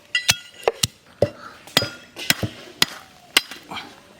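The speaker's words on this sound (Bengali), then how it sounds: "গোটা দারচিনি আমি হামালদিস্তায় গুঁড়ো করে নেবো" Whole cinnamon pounded in a mortar and pestle for a village-style Katla fish curry: about a dozen sharp, irregular knocks and clinks, close and fairly loud, with no talk.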